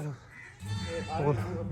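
A young goat kid bleats on a farm, a few wavering cries rising close to the mic with a voice talking alongside them.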